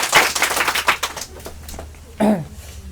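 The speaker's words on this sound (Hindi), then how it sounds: "एक बार जोरदार ताली अंकुल जी के लिए" An audience gives a burst of rapid, dense clapping for a quiz winner, loud at first and thinning out, followed by a short spoken phrase.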